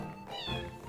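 One drawn-out cat meow in a video game, with a rising then falling pitch, moderately loud over a low background hum.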